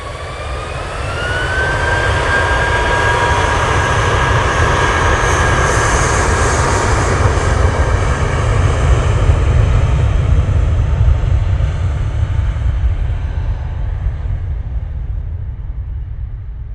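A jet airliner departs Manchester Airport, its engine roar loud and steady for the whole stretch, with a rising whine early on and a slow fade toward the end.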